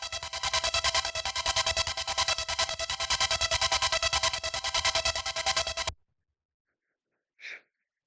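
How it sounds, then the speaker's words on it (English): A harsh, buzzy mono synth through a saturator distortion effect pulses in a steady rhythm for several seconds, then cuts to silence before one short, faint breathy noise. "And then saturator. So it makes it sound super harsh."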